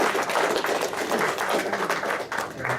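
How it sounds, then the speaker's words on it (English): Gallery audience at a municipal council meeting bursts into sustained applause, a dense wash of many hands clapping steadily for about three seconds, fairly close and loud with no pauses. "Gallery, I appreciate your applause"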